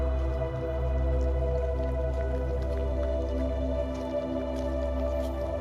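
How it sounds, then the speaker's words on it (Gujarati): Rainwater from a farm field after three days of rain drains away as a steady, continuous rush and trickle of flowing water, close by and alone, with no talking. "હવે ખેતરનું પાણી અહીંથી જાય."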